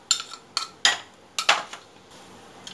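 A crushed yogurt raita mixture is scraped into a bowl, a few sharp clinks and knocks of a utensil against the dishes, close and irregular, then quieter shuffling at the end, no talking.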